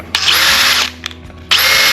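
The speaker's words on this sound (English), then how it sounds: "we're going to take the lid and we're going to drill that out so we can put an eye bolt in there" A power drill bores through a plastic storage container lid in two loud, close whirring bursts separated by a brief pause.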